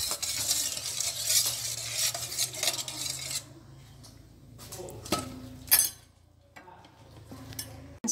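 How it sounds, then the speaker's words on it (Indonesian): Ground spice paste and chicken are stirred in a pot of water with a spoon, giving about three seconds of busy scraping and sloshing, then quieter stirring with occasional sharp clinks against the pot. "Lalu diaduk."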